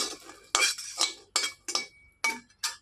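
Chillies and garlic stirred in a frying pan over low gas, heard as about seven distinct scraping, clinking strokes of a utensil against the pan, close and fairly loud with brief pauses between.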